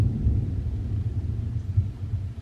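Low, steady rumble of distant thunder as a storm approaches, continuous and muffled with no voices over it.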